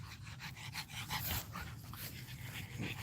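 A pug dog panting in quick, breathy, irregular puffs with faint whimpering, close and quiet, with no talk.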